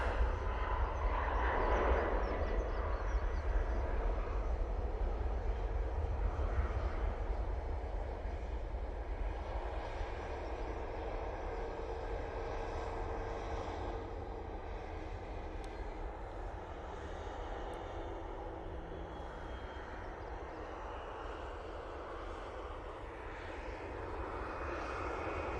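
A passenger jet departing Manchester Airport, its engines a broad, loud roar that gradually eases off as the aircraft moves away, heard alone outdoors.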